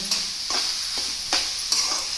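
Red amaranth leaves being stirred with spice powder in a tempering pan, with soft scraping strokes of a spoon over a light sizzle, several distinct stirs close up and no talking.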